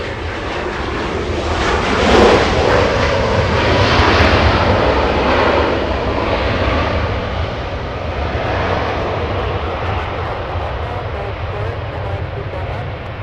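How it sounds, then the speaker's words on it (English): A Boeing 757-300 airliner, the longest variant, roars down the runway at Los Angeles International Airport on its takeoff roll to Minneapolis. The jet engine noise is loud and broadband, swelling early and then holding steady throughout. "Already clear for takeoff. This is flying to Minneapolis. A 757-300."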